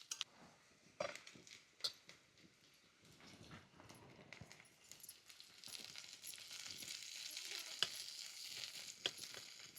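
Onion and green chillies fry in a pan with a faint, quiet sizzle and scattered clicks and scrapes of stirring. The hiss grows fuller toward the end.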